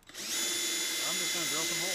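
A power drill fitted with a 1/2 inch bit bores into wood for a planter box, whining at a steady high pitch that climbs as it spins up, with a voice talking over it.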